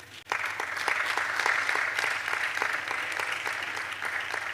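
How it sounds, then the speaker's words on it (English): Steady, sustained applause from a crowd at a water and sanitation innovation fair, many hands clapping at once for several seconds without a break. "Please warm round of applause."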